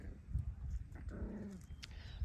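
Schnauzer puppies play-fighting, with low growls, scuffling and a brief whiny yip mixed into a steady rumble of close, busy puppy noise.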